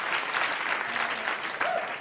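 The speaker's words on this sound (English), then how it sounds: "Keep the applause to yourself" A stand-up comedy crowd breaks into steady applause mixed with some cheering, a dense, even wash of clapping lasting about two seconds with a light whoop near the end.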